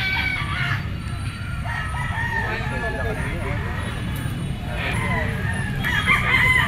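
A three-year-old Henny rooster, straight comb, white legs and banderado feathering, crows loudly and close at a pet market. It is mixed with clucking from other fowl, a voice and distant traffic.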